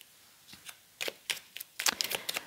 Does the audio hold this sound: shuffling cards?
yes